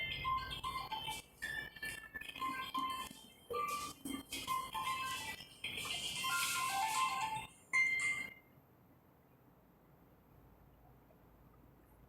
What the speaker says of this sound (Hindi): यही दिक्कत है, फोन आ जा रहा है